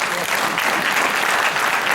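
An audience claps steadily at a municipal council event, with dense, sustained applause filling the hall throughout.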